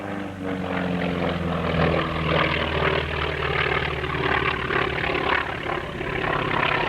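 A de Havilland Chipmunk propeller plane at a 1993 Chatham, Ontario airshow flies past left to right, a steady droning engine with a buzzing propeller, loud and sustained.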